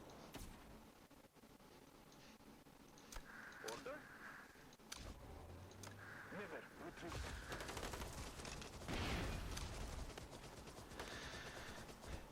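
Rapid, continuous infantry gunfire from a war strategy video game: crackling volleys of shots clustered in bursts, growing denser and louder midway, with a faint low rumble beneath.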